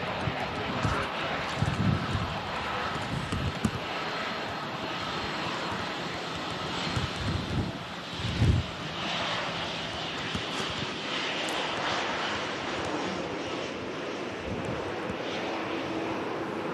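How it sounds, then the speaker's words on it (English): A Ryanair airliner from Milan arrives at Manchester Airport in strong storm winds, its engine roar mixed with gusty wind buffeting on the microphone, while a voice talks over it intermittently. "here's the next aircraft to arrive in. This is the Ryanair from Milan"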